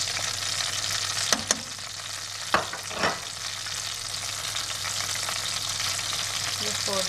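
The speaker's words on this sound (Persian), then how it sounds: "یه خوردم سیر داغ بهش اضافه میکنم." Fried onion and fried garlic being stirred into kashk bademjan, a Persian eggplant and whey dish, giving a steady soft sizzle with a few sharp clinks of a spoon against the pan.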